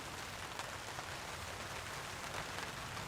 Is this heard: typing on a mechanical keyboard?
no